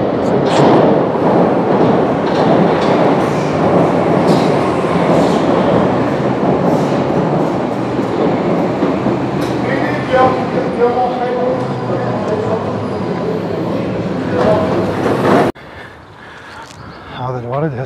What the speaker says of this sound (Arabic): هذا القطار اجى.